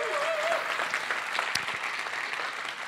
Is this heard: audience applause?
yes